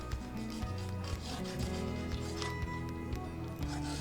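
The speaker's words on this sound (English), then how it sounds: "X-Actos work good by just kind of scraping to clean some of the surfaces" An X-Acto knife blade scrapes across plastic model surfaces to clean them, a close, steady rasping rub repeated in short strokes, with faint background hum and no talking.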